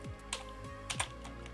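Rapid typing on a computer keyboard, close and crisp, a quick irregular run of clicks and clacks with a few louder keystrokes standing out.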